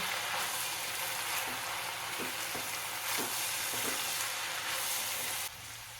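Spice powders including coriander, garam masala, turmeric and cumin being stirred into a sizzling Maharashtrian Bhogi mixed vegetable curry, with steady close frying hiss and a few soft spoon scrapes, no talk.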